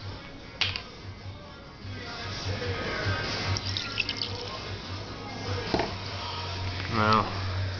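91% alcohol is poured in a thin trickle into a small metal beer can stove, splashing and gurgling softly for several seconds.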